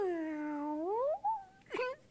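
Human voice imitating a cat, a drawn-out meow that dips then rises, followed by a short yowl and a sharp, squeaky final cry.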